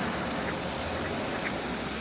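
Ducks quack on a hot-water outflow in Ekaterinburg after a November snowfall, their calls faint and sparse within a steady wash of flowing water and outdoor noise.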